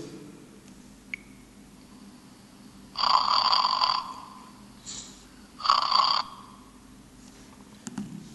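Loud snoring replayed from a phone anti-snoring app: two long rasping snore breaths, each about a second, separated by a short gap over a quiet background hiss.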